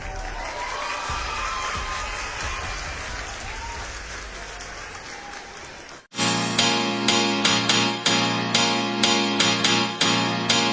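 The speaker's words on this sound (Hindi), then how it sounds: "तालियों की गड़गड़ाहट रुकनी नहीं चाहिए।" A crowd bursts into dense, sustained applause to welcome a guest on a podcast, steady and loud for about six seconds before it cuts off abruptly and music takes over.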